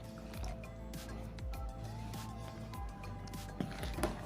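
Water is poured into puff puff mix as a quiet run of trickling and dripping with small wet squishes, close but faint over a low room hum, ending in a few slightly louder splashes.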